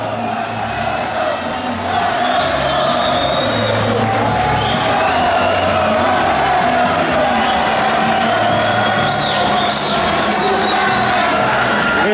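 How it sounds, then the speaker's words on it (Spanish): Loud crowd cheering, whooping and applause for the contestants of a Caribbean summer beauty pageant, sustained and dense throughout with shouts rising above the clapping. "Es el aplauso para las Miss Figuritas del verano caribeño 2016."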